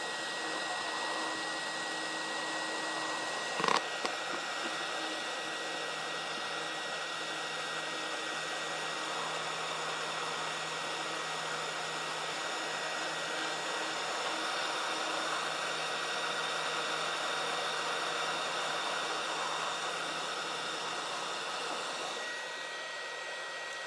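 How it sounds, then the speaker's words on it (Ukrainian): A hair dryer lying on a table runs continuously with a steady whirring blow and whine, close and constant for the whole stretch, with one brief knock early on. "Положу сам фен на стіл і буду тримати датчик біля фена."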